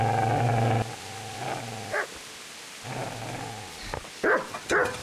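A dog in Kingdom Come: Deliverance barks and growls close by in a medieval village setting, with a long harmonic growl, pauses, another growl and a few sharp barks at the end.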